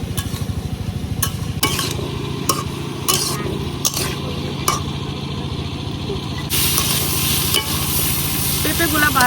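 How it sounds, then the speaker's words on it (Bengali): Raw papaya pieces fry in a kadai over a flame, giving a constant loud sizzle with repeated stirring scrapes and clinks of a utensil against the pan, and the sizzle swells louder near the end. "এই আমি পেঁপে গুলারে একটু ভাজে নিলাম।"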